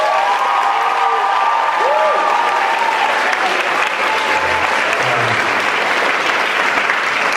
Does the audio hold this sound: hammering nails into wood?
no